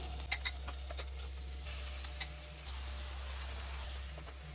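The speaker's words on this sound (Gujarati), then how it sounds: "હવે આપણે 1 ચમચી જેટલું તેલ ગરમ કરી અને બધાને સાંતળી લઈએ." Paste-coated paneer sautés in about a spoonful of hot oil, giving a soft, steady sizzle with a few light clicks of stirring over a low constant hum; no speech.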